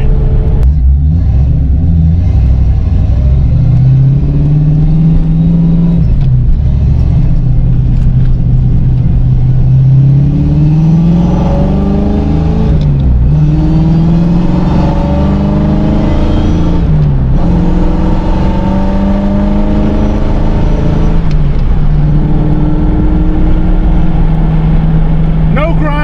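Car cruising on a highway after a transmission repair, gears shifting smoothly without grinding: a loud, constant engine and road drone with repeated rev rises and drops as it changes gear, under intermittent talk.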